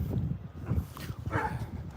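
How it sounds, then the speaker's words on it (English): A golden retriever whimpers and whines nearby outdoors, with short thin cries over rustling and scuffing sounds. "My dog's acting up."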